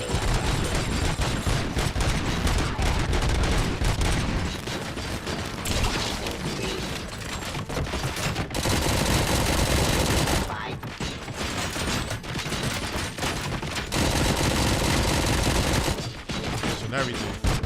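Heavy machine gun fire from RoboCop: Rogue City, near and loud, in sustained dense bursts broken by a couple of brief pauses, with scattered mechanical clatter among the shots.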